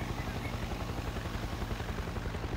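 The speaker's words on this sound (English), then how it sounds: "Who owns the helicopter?" A helicopter flies in the Farming Simulator 22 video game. Its rotor makes a steady, continuous low chop that stays even throughout, with no talk over it.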